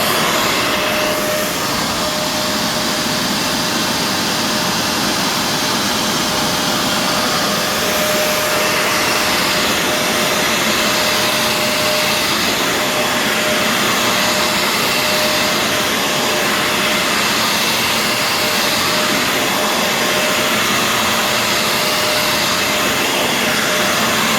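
A Shark CarpetXpert EX201 carpet cleaner running on its quick dry setting with the brush still spinning, giving a loud, steady, unbroken motor whine and rushing airflow with a faint constant tone throughout.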